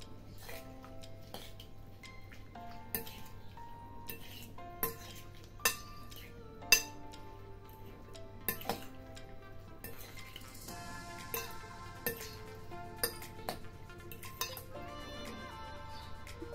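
A roasted sweet pepper salad is mixed in a bowl with a utensil, making scattered light clinks and taps against the dish over a quiet background, with no talking.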